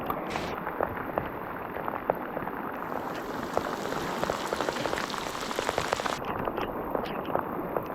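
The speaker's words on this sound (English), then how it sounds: "Oh my God, the rain is coming down." Heavy summer rain pours steadily on the ground beside a fishing spot, a dense, constant hiss of drops with no voices.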